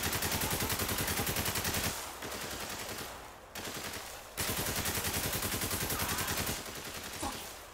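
Rapid automatic gunfire in Spec Ops The Line rattles loudly in long sustained bursts, broken by a few short pauses before the firing resumes.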